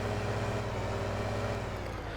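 A farm vehicle's engine in Farming Simulator 15 runs as a steady, loud, low drone with a constant hum and no breaks.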